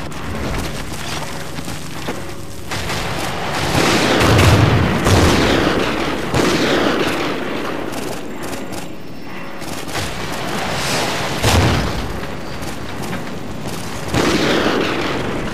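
An ambush in Call of Duty: Ghosts brings heavy booms and bursts of gunfire that keep pounding through the whole stretch, with deep explosions rolling in at intervals.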